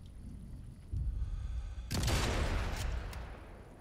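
An explosion goes off in the game Sniper Elite 5: a dull thump, then a louder broad crack and rumble that lingers and fades over a couple of seconds, fairly quiet overall.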